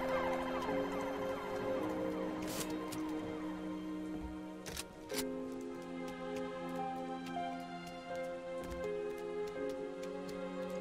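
Police vehicle siren in the video game Halo 3 ODST wails in a steady repeating cycle throughout, fairly faint and heard alone with a few sharp clicks scattered between.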